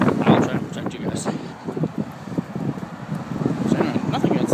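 Strong outdoor wind buffets the microphone in loud, rumbling low gusts that continue throughout.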